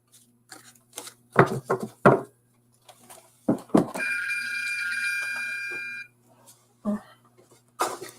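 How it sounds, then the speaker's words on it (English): A phone alarm sounds on its own for about two seconds as a steady, loud multi-tone electronic chime, with someone talking before and after it. "My alarm went off."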